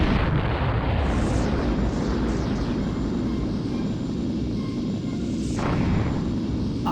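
Spacecraft self-destructing in the Colony Wars space combat game: a loud, continuous roaring explosion rumble with dense low-end noise and occasional swooshing bursts, sustained throughout.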